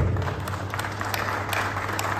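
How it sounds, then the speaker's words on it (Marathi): An audience at a speech event in Pune claps for Mane sir, dense steady applause from a crowd, loud and close, over a low electrical hum. "माने सरांसाठी एकदा जोरदार टाळ्या झाल्या"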